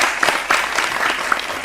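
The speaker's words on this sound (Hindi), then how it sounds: "तालियों के साथ स्वागत कीजिएगा।" Studio audience on a televised debate show clapping to welcome guests, a brief dense burst of applause with a few louder claps standing out, near and fairly loud.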